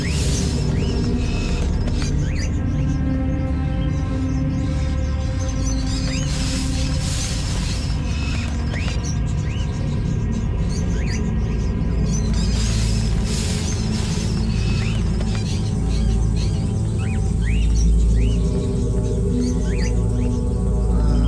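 Small birds chirp and tweet repeatedly in Indigo Prophecy, quick high chirps scattered over a steady low rumble of game ambience, fairly close and continuing throughout.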